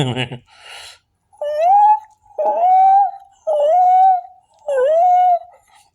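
A human voice imitates a whale call with four long, loud, moaning wails that rise and bend in pitch. Each is separated by a short pause and heard close up on its own.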